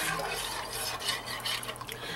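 Pumpkin and milk being stirred in a pot, with steady scraping and swishing of a spoon against the pot, close and continuous, with faint kitchen clatter beneath.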